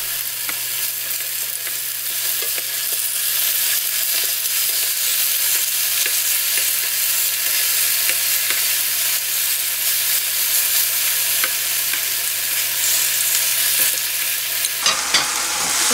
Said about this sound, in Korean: 조금 노릇노릇하게 굽겠습니다